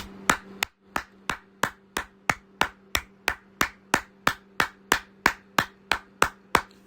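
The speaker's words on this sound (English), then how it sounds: "Let me give a round of applause for Romeo motherfucking Doubs." One person clapping hands alone in a slow, steady rhythm, roughly twenty sharp, close claps evenly spaced, with a faint low hum behind them.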